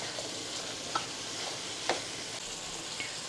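Ground beef browning in a pan for beefy noodles, a soft steady sizzle with a few faint scrapes of stirring, close and alone without talk.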